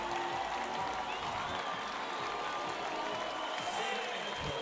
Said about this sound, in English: They're cheering in the stadium